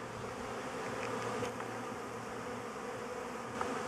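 Honeybees buzz around a water source at an apiary overgrown with white clover, a dense steady drone of many insects close by with a few louder passes.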